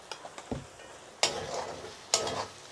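Duck meat fried with ground coriander and cumin paste in a pan: a quiet sizzle broken by a few sharp utensil taps and two louder bursts of scraping stir, close by and without talk.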